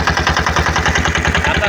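A boat engine on a Sundarbans river trip chugs steadily close by, a loud, even rhythm of low thumping pulses with no break.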